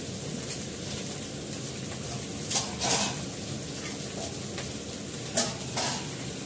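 Snake gourd and okra fry together in a pan with a steady sizzle, broken by a few sharp scrapes and clatters of stirring.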